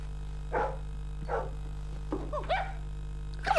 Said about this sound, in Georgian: ეს ძაღლია, რომელიც დღეს ავიყვანე.